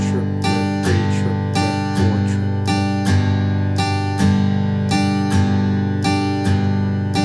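A guitar strums a looping shuffle triplet rhythm with down and up strokes, loud and close, its chords repeating in a steady, swung pattern with no talking over it.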